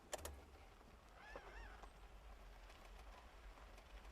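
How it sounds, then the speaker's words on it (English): African painted wild dog on safari making a short run of faint, high, wavering chirps partway through, over a steady low rumble. "is this one just chirping now?"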